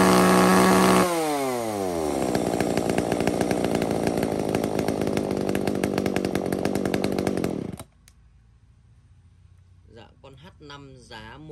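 Used Japanese petrol chainsaw runs loud and close at a steady high rev, then winds down and cuts off, leaving a quiet background with faint talk.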